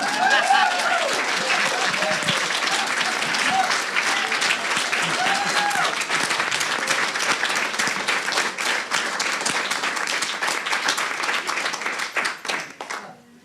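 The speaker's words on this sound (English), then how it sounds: "So clap for her," Sustained applause from a large crowd at an alumni awards plenary honoring a long-serving volunteer, loud and dense throughout, with a voice speaking briefly early on before the clapping tapers off at the end.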